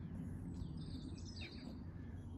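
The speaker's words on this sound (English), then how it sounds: "can you hear them birds singing?" Faint birds chirp and trill in the distance over a low outdoor rumble.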